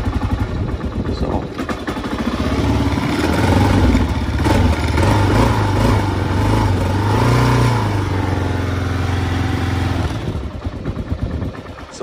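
Kawasaki KLR 650 single-cylinder motorcycle, first generation, on a cold start with choke, idling close by with a steady thumping chug and some mechanical clatter, rising slightly midway.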